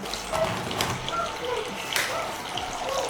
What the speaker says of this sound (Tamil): ஸோ தண்ணி ஊற்ற போறேன்.